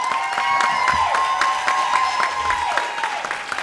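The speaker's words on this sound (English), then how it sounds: "Give him a round of applause for that." An audience at a Florida education association conference gives a speaker a round of applause. The clapping is steady crowd-wide and mixed with a sustained tonal hum and light crowd noise.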